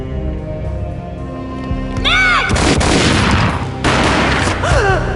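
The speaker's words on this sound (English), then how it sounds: "A gunshot boomed and she fell down in slow motion." A loud gunshot boom rings out in the Max Payne video game, a sharp burst with heavy ringing tail, set against tense game music and followed by another rising blast.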